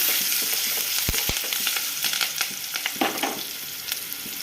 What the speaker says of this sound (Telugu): ఆనియన్స్ ఇలా ఫ్రై అయినాక కొంచెం పసుపు కూడా వేసుకుందాం.